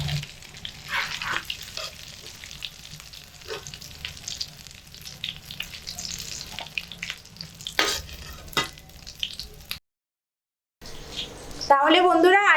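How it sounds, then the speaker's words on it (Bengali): Cauliflower chops sizzle and crackle in hot oil as a batch is fried and lifted out, with steady frying noise, occasional utensil clinks, a brief silent gap and a voice speaking. "প্রথম ব্যাচের গুলো কিন্তু ভাজা হয়ে গেছে, তো একটা পাত্রে আমি এগুলোকে তেল থেকে ছেঁকে তুলে নিচ্ছি"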